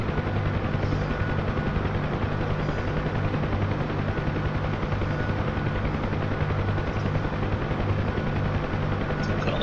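Huey helicopter in a flight video game, a steady loud rotor thump and engine drone running continuously and evenly throughout.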